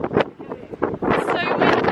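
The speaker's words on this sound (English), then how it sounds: "It's so windy." Sea breeze buffets the microphone on a windy seaside walk, with gusty rushing bursts that swell and drop over two seconds while people talk.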